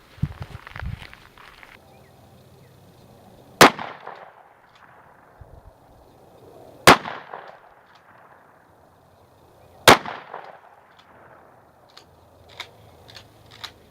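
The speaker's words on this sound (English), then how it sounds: "that was shooting the RIO Royal Buck at 15 yards" Three sharp, loud blasts from a 12 gauge shotgun loaded with RIO Royal Buck buckshot, fired at a 15-yard target, spaced about three seconds apart, each with a short outdoor echo and quiet between.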